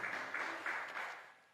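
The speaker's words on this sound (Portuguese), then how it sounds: "salva de palmas para eles," A church congregation claps to welcome visitors, a faint, brief burst of applause that comes in a few swells and fades out toward the end, with no speech.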